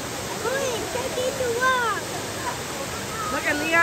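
Waterfall at Waimea Falls, Hawaii, roars as a steady broadband rush of falling water throughout, with children's and adults' voices chattering over it.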